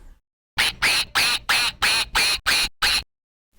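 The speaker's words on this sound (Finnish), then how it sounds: "Ankka." A duck quacks eight times in a quick, even series, loud and close, each quack harsh and nasal, with silence before and after.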